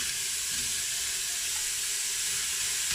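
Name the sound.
onions and red peppers dry frying in an Instant Pot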